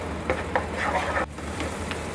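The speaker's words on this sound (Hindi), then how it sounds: "हमारे जो मसाले हैं वो टमाटर के साथ अच्छे से भुन गए हैं" Spices roasting with tomatoes in a pan over a low-to-medium flame give a soft, steady sizzle under a few light spoon scrapes and taps, close by and without talk.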